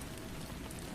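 Steady rain falling on pavement, a dense even hiss of droplets with no gaps, moderately quiet and alone.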